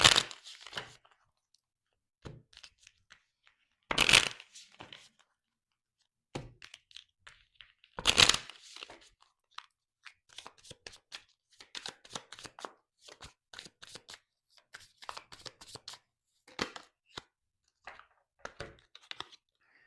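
Playing cards are shuffled and drawn in a quiet room, with sharp flicks and soft riffles coming in scattered short bursts, close and fairly faint, no voices.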